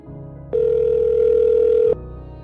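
A single steady ringback tone sounds on an outgoing telephone call, holding for about a second and a half over a faint low background bed before cutting off.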